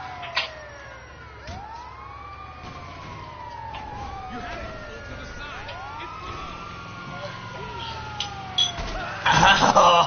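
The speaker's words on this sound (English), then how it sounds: "I just saw the ambulance." An ambulance siren wails in repeated rising and falling sweeps at moderate distance, with background noise and a burst of louder sounds near the end.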